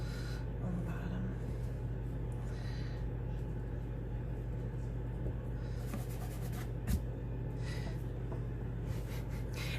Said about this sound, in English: Add some more doodles on the bottom.